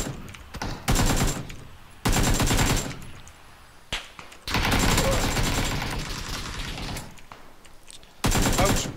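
Video game gunfire comes in several long automatic bursts separated by short quieter gaps, loud and close, with a few isolated single shots in between.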